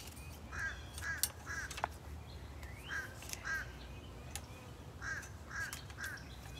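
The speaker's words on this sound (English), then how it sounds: "I hear the birds and the bees, everything buzzing around." Crows caw repeatedly outdoors in short bursts of two or three calls, with a few sharp chirps from other birds against a quiet background.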